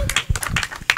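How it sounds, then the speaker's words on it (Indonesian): A live audience bursts into brief clapping and applause for Sultan TV at an Indonesian creative economy event, a short, close burst of scattered hand claps. "Tepuk tangan buat Sultan TV."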